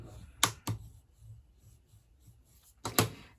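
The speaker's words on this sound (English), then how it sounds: "go ahead and fold and burnish it really well" A cardstock piece for a handmade card is folded and burnished, giving a few sharp close rubbing and pressing strokes separated by quiet pauses, with faint handling noise between them.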